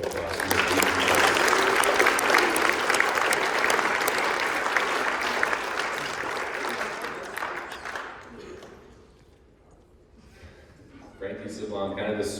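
A crowd at a school signing event gives a sustained round of applause, dense clapping holding steady for about eight seconds before fading out, followed by a brief pause and then some talk.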